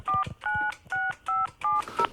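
A telephone number is dialed on a keypad: six distinct DTMF tones in quick, evenly spaced succession, loud and close, with no one talking.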